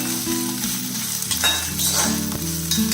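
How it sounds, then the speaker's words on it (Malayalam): Chopped ginger frying in hot sesame oil for a ginger curry, with a steady, close, loud sizzle and crackle plus occasional stirring clatters throughout, and no talking. "നമ്മുടെ ഓയിൽ ചൂടായിട്ടുണ്ട് ഈ കട്ട് ചെയ്തിരുന്ന ഇഞ്ചി വെച്ച് കൊടുക്കാം"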